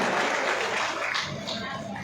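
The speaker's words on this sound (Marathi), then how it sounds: "एकदा जोरदार टाळ्या वाजवूयात आपण" An audience applauds in the Sant Tukaram hall in Barshi during a government camp event, a dense wash of clapping that stays steady and full for the whole short stretch.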